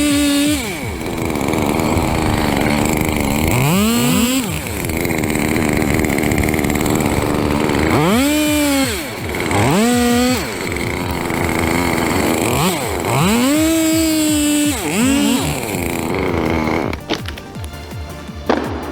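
Chainsaw engine revving repeatedly while felling a 220-foot fir tree, loud rising and falling whines in several bursts over a steady motor drone, ending with a cracking rush near the close.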